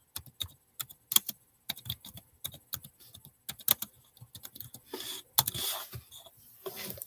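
Fingers type on a computer keyboard in quick irregular bursts of close, crisp key clicks, with a denser clatter near the end and no talking.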